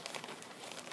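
A Ziploc plastic bag being handled while packing a Chromebook case and charger for return, giving a steady close crinkling and rustling that runs for about a second with no talk.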